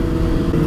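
Suzuki Gixxer motorcycle engine running steadily nearby, a continuous low rumble that holds at an even level for under a second with no talk over it.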